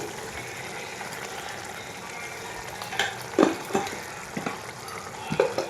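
Spice paste with turmeric and salt frying in oil, a soft steady sizzle with a few scraping stirs and light utensil knocks growing busier in the second half, close by.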